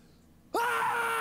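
A person lets out one sudden loud scream partway through a scream volume challenge, starting with a rising pitch and then holding a strained, sustained shriek to the end after near silence.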